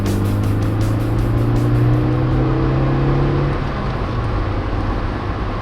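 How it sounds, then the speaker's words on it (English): A first-generation Toyota MR2's small 128-horsepower engine revs up loudly with a rising whine, then settles back to a lower idle rumble. "The engine is very lively"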